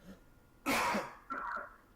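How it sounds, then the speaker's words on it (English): A single close, harsh cough with a throat-clearing rasp bursts out, followed by a shorter rough follow-up sound, against a quiet room background. "as I cough"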